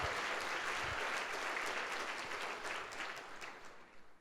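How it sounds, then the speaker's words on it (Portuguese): A Sunday church congregation applauds together, a dense burst of clapping that starts full and gradually thins out and tapers off toward the end, with no one speaking. "e dê um aplauso a Jesus"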